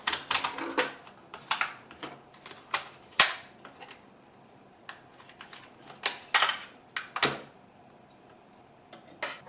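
Sharp plastic clicks, snaps and creaks from a screwdriver prying open the casing of a Lenovo WMR headset, worked around the edge in irregular bursts with quiet gaps between, close and fairly faint.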